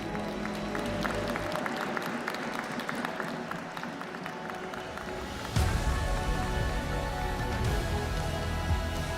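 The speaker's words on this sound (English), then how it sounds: "please one more time, a round of applause for Wei Yi." Crowd at an esports chess event applauds a player, a continuous wash of clapping that swells louder midway and carries on steadily to the end, with no talk over it.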